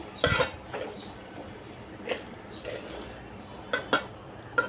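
A spoon clinks against a bowl or pan while almonds, cashews and raisins are mixed for ragi ladoo. Sharp metallic taps come in scattered bursts over quiet room tone, with no speech.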